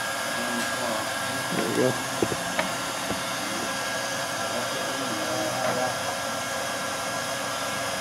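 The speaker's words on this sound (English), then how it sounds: "we can put that screw back in, and then we're going to start welding them." Hot air welder running steadily while welding the roof membrane on a 2014 Sabre fifth-wheel RV, a constant blowing hiss with a few faint clicks and brief speech over it.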